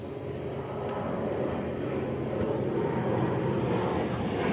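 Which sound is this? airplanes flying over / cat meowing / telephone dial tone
airplanes flying over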